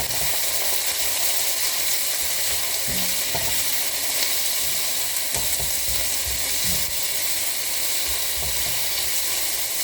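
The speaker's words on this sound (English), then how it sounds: "Put the onion. We cook the onion." Onion fries in a hot pan with a steady, close sizzle and hiss, while faint stirring knocks and scrapes come through now and then.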